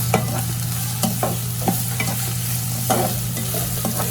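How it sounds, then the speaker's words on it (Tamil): Cabbage, capsicum and other vegetables fry hard for egg fried rice, a loud steady sizzle with a low burner hum underneath and repeated sharp scrapes and clanks of a spatula tossing them. "கொஞ்சம் கேபேஜ் ஆட் பண்ணிக்கிறோம். எல்லாத்தையும் நல்லா ஃப்ரை பண்ணிக்கலாம்."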